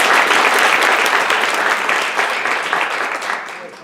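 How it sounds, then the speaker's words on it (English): Audience applause for TV production students at a Parent University event, a dense, loud wash of clapping throughout that eases slightly toward the end, with no voices over it. "So let's give them a big round of applause."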